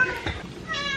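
A house cat gives one short, clear meow close by, asking for dinner, with a rising tonal call in a quiet room.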